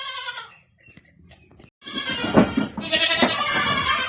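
A goat bleats in a few harsh, wavering calls, close and fairly loud, with quieter stretches and faint background voices between the cries.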